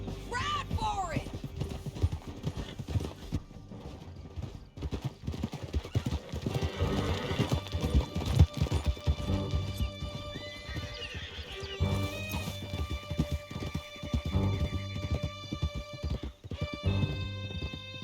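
Horses galloping hard through a canyon in Red Dead Redemption 2, riders fleeing pursuers. Steady hoofbeats drum throughout with occasional whinnies, mixed with voices and a dense cinematic score.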